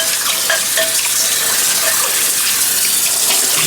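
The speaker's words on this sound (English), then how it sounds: "Let me rinse out this apple bowl" Running tap water pours steadily into a sink as a bowl used for apples is rinsed, a continuous close splashing hiss with no talk over it.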